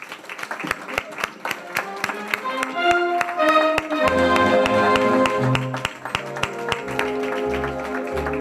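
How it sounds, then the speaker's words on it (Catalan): Strong applause at a Valencian falla ceremony honoring the child fallera queen and child president: dense clapping from a crowd, steady and sustained, with music tones ringing over it. "Acomiadem en un fort aplaudiment a la nostra fallera major infantil Andrea, al nostre president infantil Alejandro."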